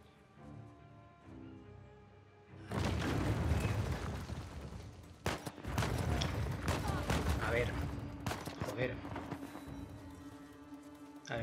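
Sustained, dense gunfire rattles through a firefight in the video game Uncharted: The Lost Legacy at Hoysala, with loud bursts and sharp cracks starting a few seconds in and continuing nearly without pause.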